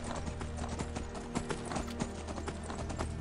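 Horse hooves clip-clopping in Skyrim, a brisk, steady run of close hoof clops in regular rhythm over a busy background of game sound.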